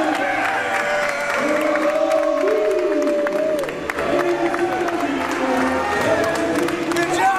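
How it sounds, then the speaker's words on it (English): Wrestling fans at an NECW event cheer and applaud as Cool People win the 2017 NECW Tag Team Classic tag team titles: a steady, loud roar of crowd noise and clapping, with voices and horn-like tones mixed in throughout. "These fans standing, cheering."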